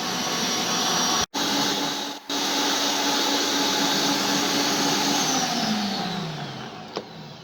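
An electric mixer whipping a marshmallow mixture gives a loud, steady motor whine that cuts out briefly twice, then slows and winds down in pitch as it is switched off.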